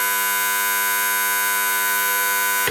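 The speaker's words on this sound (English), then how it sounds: "the Teasmade knows that it's empty and sounds the alarm to wake you up" A Teasmade tea maker's electric alarm sounds as one loud, steady, harsh buzzing tone that holds unbroken for nearly three seconds before cutting off abruptly.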